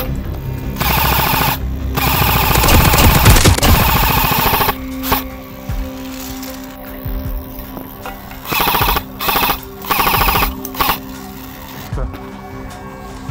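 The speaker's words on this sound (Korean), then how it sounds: "제압 사격을 진행하면서 천천히 앞으로 전진합니다." Airsoft guns laying down suppressive fire during a Battlefield-style rush game, with dense rattling bursts loud at the start and shorter intermittent volleys later, mixed with outdoor activity and some voices.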